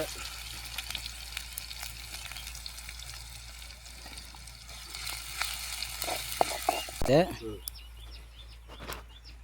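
Ginger garlic paste frying in a hot pan for a Tamil fish curry, a faint continuous sizzle with a few stirring clatters and a brief bird chirp in the background.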